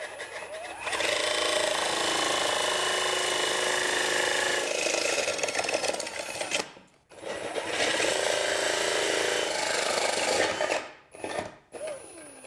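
A drill boring out ports in a mahogany miter saw dust collector finished with a single coat of poly, a loud sustained grinding whir in two long runs with brief pauses between.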